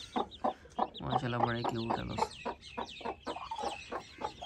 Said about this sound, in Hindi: मुर्गी ने आज बच्चे निकाले हैं माशाल्लाह से, इस वाली मुर्गी ने।